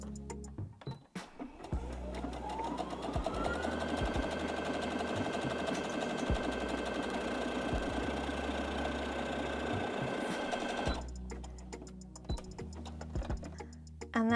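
A domestic sewing machine set to zigzag stitch runs steadily for about nine seconds, a fast even mechanical rhythm with a faint whine, framed by brief handling clicks before and after.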